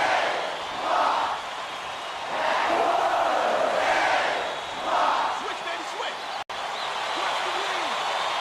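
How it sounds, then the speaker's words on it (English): Arena crowd in the College Basketball 2K8 video game roaring in repeated swelling waves, loud and continuous beneath a commentator's voice. "This crowd is going insane."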